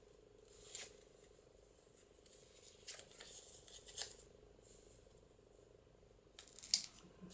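Scissors trim paper for a matchbook pocket in a junk journal, a few soft snips and rustles spread across several quiet seconds, close but faint, with no voice.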